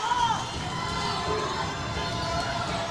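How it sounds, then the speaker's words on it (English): Crowd at a South Carolina high school basketball game cheering and shouting steadily in a gym, a sustained roar of many voices with a few higher calls standing out. "Canes crowd getting behind them"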